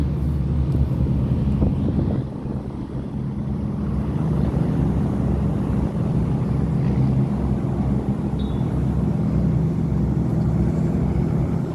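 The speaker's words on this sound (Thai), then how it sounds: "เร่งเครื่องกันมานะคะสี่เรือ หัวเรือลากนะคะท่านผู้ชม" Tugboats towing pontoon boats rev their engines on a river, a steady low rumbling drone with wind noise, heard from a distance with no talk.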